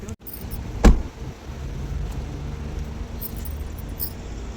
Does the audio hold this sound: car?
yes